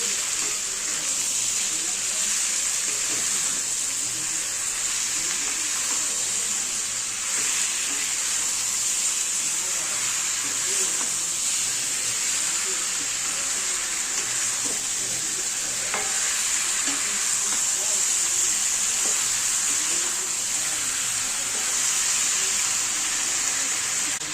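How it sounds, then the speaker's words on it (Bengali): Steady stirring and sizzling of mango pickle with sugar in a hot pan, a continuous close hiss with soft scraping throughout and no talk. "চিনি দিয়ে ভালো করে নাড়াচাড়া করব"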